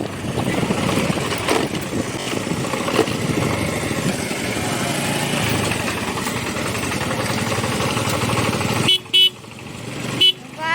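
A tempo rumbles along a rough village road in a steady broadband drone, with a few short horn honks near the end.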